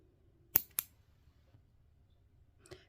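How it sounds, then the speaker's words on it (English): Nail clippers cut through a false nail tip with two sharp, close clicks in quick succession, then a fainter snip a moment later against near silence. "I'll cut that. These clippers aren't the best."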